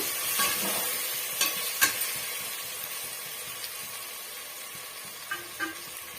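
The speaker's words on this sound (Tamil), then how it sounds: "அது வரைக்கும் நம்ம கிளறி கொடுத்துக்கலாம்" A spoon stirs ripe tomatoes into guinea fowl gravy in a pan, with soft scraping strokes and a few sharper clacks over a quiet, steady sizzle.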